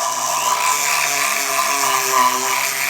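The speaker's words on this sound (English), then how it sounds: "I'm just going to get just a Dremel with a little sanding pad on it" A Dremel rotary tool with a small sanding pad cleans corrosion off metal parts of a Polaris Ranger 500, giving a steady, close, high-pitched whine that holds continuously for about three seconds with slight wavering.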